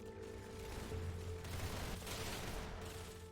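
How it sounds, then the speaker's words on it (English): A Roblox Arsenal rapid-fire exploit sends weapon shots rattling out at extreme speed, a continuous dense crackle layered over a steady hum with no voices. "We have rapid fire, where the user will fire any weapon, even slow shooting weapons,"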